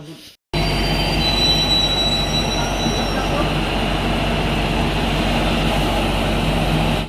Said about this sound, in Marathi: ही ट्रेन इलेली आहे